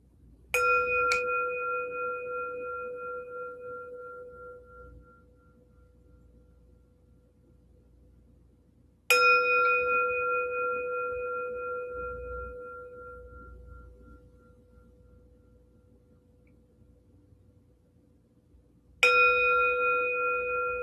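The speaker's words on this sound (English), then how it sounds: "So I'll get us started with our bell sound." A meditation bell is struck three times at a guided movement and meditation session, each clear ringing tone decaying slowly for several seconds in near silence between strikes.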